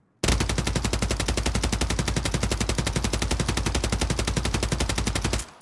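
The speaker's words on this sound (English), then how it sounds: "So this is what it looks like in the game here when you're shooting it." An assault rifle in Warzone 3 fires one long unbroken burst of rapid automatic shots, loud, close and evenly spaced, starting abruptly and cutting off cleanly after about five seconds, with no voices.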